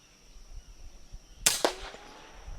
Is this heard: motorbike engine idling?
no